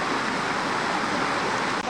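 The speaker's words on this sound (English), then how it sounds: "Look at the pretty waterfalls" Waterfalls rush in a dense, steady roar of broadband water noise that holds constant and loud throughout, with no voices.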